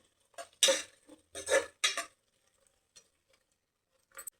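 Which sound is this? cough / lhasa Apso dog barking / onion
onion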